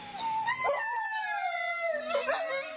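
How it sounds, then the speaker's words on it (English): Pet dogs at a home in Pine Bluff howl together in long wavering tones, several voices overlapping into a drawn-out chorus with yips near the end, close and fairly loud. "his pet dogs will jump in with some howling harmonies"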